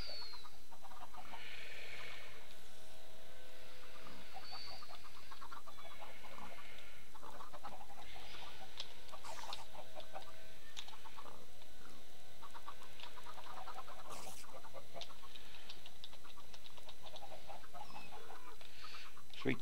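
Chickens clucking on a chicken ranch in the Minecraft video game, a busy stretch of repeated short clucks and squawks scattered over constant game noise, with no talk.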